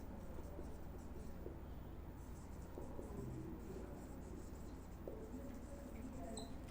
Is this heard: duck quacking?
no